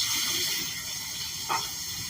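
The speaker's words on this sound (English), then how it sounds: "we're going to start filling this up with water" Water gushing steadily into a sink as it fills for rinsing glass, a constant close rush with a brief splash near the end.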